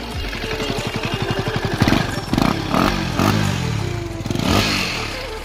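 Repaired motorcycle engine, one of a KTM Duke 390 or Duke 250 run without exhaust, idling in neutral close by with a rapid loud putter, then several sharp revs and clattering bursts.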